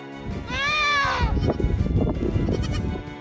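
A loud, wavering bleat from a baby goat in panic rings out up close, shrill and urgent, followed by rustling and muffled movement.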